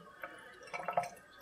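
Water rinses and drips through cocoa coir growing medium in a short, close burst of trickling and dripping with no talking.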